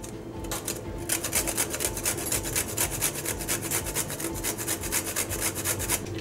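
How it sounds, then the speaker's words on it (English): Whole nutmeg is rubbed quickly against a grater, producing a steady run of close, dry rasping strokes in a fast even rhythm. "¼ teaspoon of freshly grated nutmeg."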